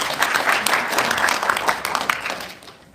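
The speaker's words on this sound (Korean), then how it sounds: "자리에는 안 계시지만 박수 부탁드리겠습니다." An audience claps at a seminar in a National Assembly conference hall, a dense burst of applause that fades toward the end, with light speech in the background.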